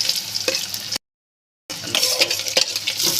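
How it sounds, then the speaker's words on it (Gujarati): Onion and tomato hit hot oil as the base for a bitter gourd curry, producing a loud close sizzle with ladle stirring and clattering against the pan on both sides of a short silent cut. "તેલ ગરમ થઈ ગયું છે અંદર ઉમેરી છે ડુંગળી"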